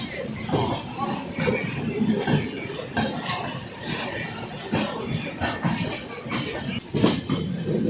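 A passenger train rolling along a line near Rajahmundry on the way to Bhimavaram, with a Duronto Express running parallel, heard from onboard as a continuous rumble with rhythmic clattering wheels and a voice talking over it.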